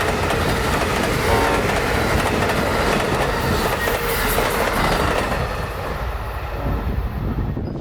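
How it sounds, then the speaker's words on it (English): Amtrak 91, a passenger train from New York City to Miami, races downhill from Lakeland at speed with a loud, continuous rumble and rhythmic clickety-clack of wheels, steady throughout and fading slightly near the end. "flying down the hill from Lakeland, is Amtrak 91, on a swift, speedy run from New York City to Miami"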